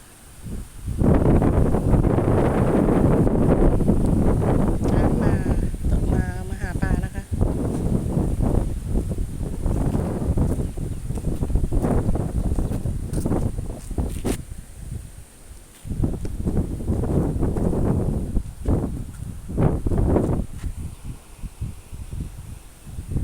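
Steady, gusty wind buffets the microphone beside a full reservoir dam and irrigation canal in a Thai village, with rustling and faint animal calls mixed in.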